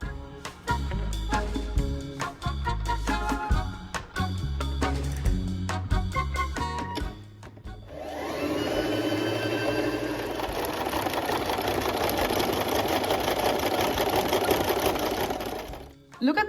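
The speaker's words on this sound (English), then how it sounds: "I'm gonna take all my pieces and I'm gonna make a zigzag stitch around them" A sewing machine zigzag stitches around the edges of velvet dress pieces, a continuous close mechanical whir running for about eight seconds after a stretch of clattering handling sounds.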